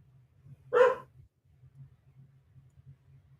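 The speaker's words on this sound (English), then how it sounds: "Barking at the cat." A dog named Glory lets out a single sharp bark at a cat, near and fairly loud, followed by a faint low rumble of room background.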